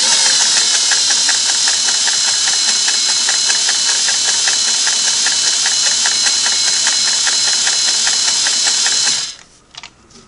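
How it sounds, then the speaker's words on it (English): A Sweetness 401A sewing machine runs a zigzag stitch with a loud, close, steady rhythmic whirr for about nine seconds, then stops abruptly, leaving faint handling noise. "a fairly short stitch so we can get some zigzagging done here"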